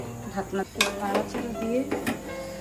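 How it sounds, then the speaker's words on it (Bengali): Fried onions with salt being stirred in a pan, a utensil scraping and clinking against the metal in irregular bursts, fairly quiet, with a voice speaking alongside. "তো লবণ দিয়ে এখন এটাকে একটু নাড়াচাড়া দিয়ে"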